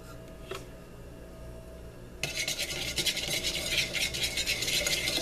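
Utensil whisks Caesar dressing as olive oil is mixed in, starting with faint scraping and then turning into brisk, steady, close stirring with a wet, rasping texture.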